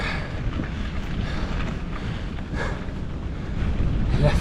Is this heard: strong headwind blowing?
yes